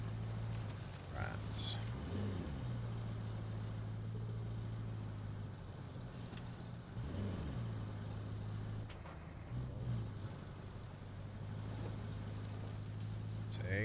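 Small truck engine droning steadily in the RoadCraft video game, a continuous low hum with brief pitch sweeps as it revs and shifts, moderately loud with a person talking over it.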